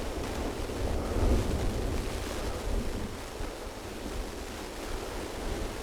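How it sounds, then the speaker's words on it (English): Ocean waves breaking and splashing against coastal rocks on a windswept peninsula, a steady broad surf roar with wind buffeting the microphone and no talk. "look at that, the waves splashing the rock"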